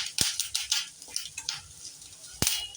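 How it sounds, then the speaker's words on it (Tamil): Curry leaves sautéing in a pan while cooking an egg masala, soft sizzling under sharp scrapes and clicks of a spoon stirring against the pan, close and moderately loud, no talking. "கருவேப்பிலையும் நல்லா வதங்கணும்"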